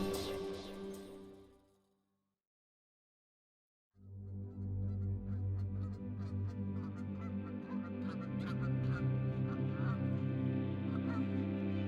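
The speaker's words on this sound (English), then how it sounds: "The geese are returning to their summer homes, the lake next door and northward" A flock of geese honking together, a dense, continuous clamor of many calls, after a short quiet gap.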